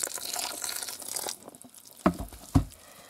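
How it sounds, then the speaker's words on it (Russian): Water, about a litre and a half, poured onto a compressed coconut coir brick: a steady close-up splashing pour lasting over a second, then quieter, with two short sharp crackling snaps about half a second apart. "Я вот сейчас литр-полтора налью воды."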